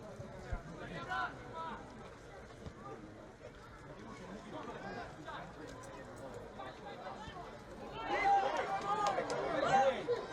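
Football fans in the stands at a Bukovyna versus Chernihiv-ShVSM Ukrainian First League match shout for a goal, a broad crowd roar that swells louder near the end under a commentator's talk.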